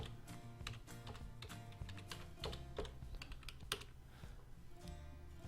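A password typed on a computer keyboard, steady soft clicking keystrokes, close and quiet, with no talking.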